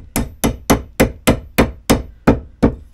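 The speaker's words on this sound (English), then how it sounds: "Let's just see if I can just tap it in nice with the hammer." A hammer taps a piece into a trailer light board: nine sharp, evenly spaced strikes in a steady rhythm, close and loud with no talking.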